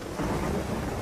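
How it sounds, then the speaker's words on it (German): Rain and rolling thunder in The Witcher 3: Hearts of Stone, a dense, steady wash of rainfall with a low rumble underneath, heard alone over a brief moment. "Natürlich fängt es wieder an zu regnen."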